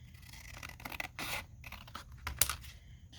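Paper being cut in half with scissors for a junk journal page, crisp snips and scraping paper rustle in a few close, quiet bursts with no talking.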